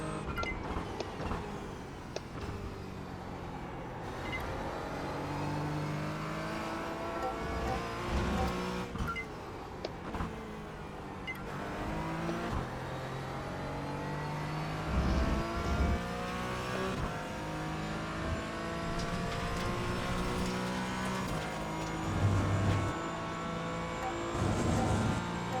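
A simulated race car engine in the iRacing sim racing game runs continuously over two laps, repeatedly revving up and dropping back through gear changes, with occasional tire squeal. No one speaks.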